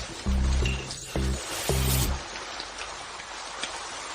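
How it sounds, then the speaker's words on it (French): Sudden rain begins as a soft, steady hiss that takes over after several short, loud tonal hits at the start. No one speaks. "Pourquoi s'est-il mis à pleuvoir tout d'un coup?"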